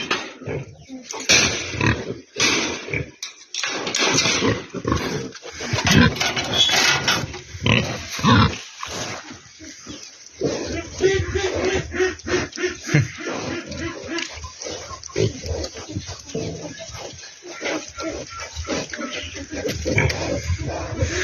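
Piglets grunt and squeal continuously while feeding, a busy, close chorus of snorts and oinks with a person talking intermittently over them.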